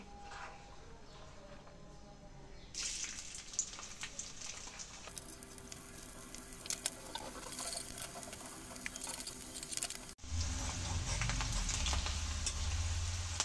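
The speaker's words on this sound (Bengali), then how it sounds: "আর কাঁচা ঝাল ভেজে নেব।" Chopped onion and green chili frying in oil in a wok, a soft patter and crackle of sizzling that grows busier, with a louder burst of frying near the end.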